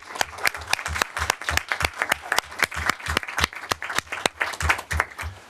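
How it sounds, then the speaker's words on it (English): Scattered applause at a school board of education meeting, individual claps clearly separated in an uneven rhythm from a modest group of people, close and crisp throughout. "So let's give her a nice round of applause."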